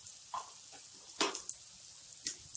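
Parwal (pointed gourd) tossed with turmeric, coriander and red chilli powders in a pan, giving a soft, low sizzle broken by a few sharp scraping strokes of a spoon against the metal.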